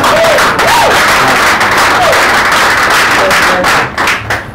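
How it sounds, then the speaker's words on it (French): Loud, dense applause from a crowd, continuous clapping filling the whole stretch before tapering slightly at the end. "ça demande encore un applaudissement"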